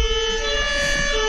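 An ambulance siren passes outside, a loud, steady wailing tone over low traffic rumble, continuous for the whole moment with no talking.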